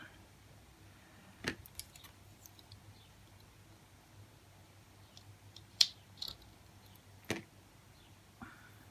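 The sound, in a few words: scissors cutting flowers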